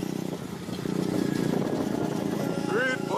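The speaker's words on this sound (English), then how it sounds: "She bought me a Scorpion exhaust and it was really loud." A motorcycle fitted with a loud Scorpion aftermarket exhaust runs with a steady mid-pitched engine drone, rising slightly as it rides, while a voice speaks over it near the end.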